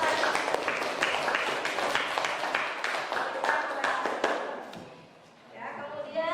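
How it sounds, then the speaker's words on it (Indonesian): A classroom of students claps for a classmate in a brisk burst of applause lasting several seconds, then fades out, and a voice begins speaking just after. "Kasih tepuk tangan untuk Rani"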